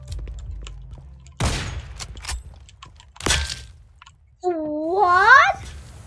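Gunfire in a shooter video game: two sharp, loud bursts a couple of seconds apart, followed by a wavering tonal electronic sound near the end.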